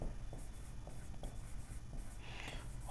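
Chalk or marker writing on a board during a differential calculus math lecture: short scratchy strokes in an irregular rhythm, close and fairly quiet, with no talking.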